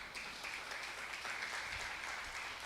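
A church congregation applauding during a service, a dense steady patter of many hands clapping together, filling the room evenly at moderate volume without a break for the whole stretch.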